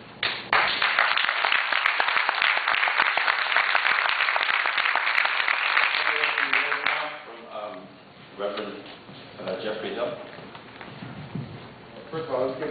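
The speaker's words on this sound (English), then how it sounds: "let's give these young people another round of applause." A crowd at a Black history event in Windsor, Connecticut applauds the young people, with dense clapping loud and steady for about seven seconds before fading into scattered claps under talk.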